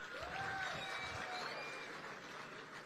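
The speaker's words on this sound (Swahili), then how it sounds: "Makofi kwa mama." An audience at an International Women's Day celebration applauds Mama Dorcas Rigathi with soft, continuous, distant-sounding clapping lasting about three seconds.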